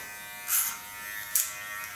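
Electric hair clipper buzzing steadily up close during a punk haircut, with two brief louder surges as the blade meets hair; no one speaks.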